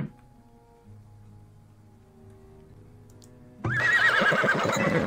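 A horse whinnies loudly and close in Farthest Frontier, a shrill rising-then-falling neigh that bursts in after a few seconds of quiet game ambience with faint tones.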